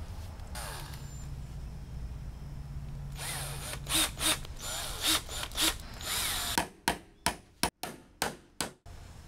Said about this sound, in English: Going to use a combination of screws and spikes.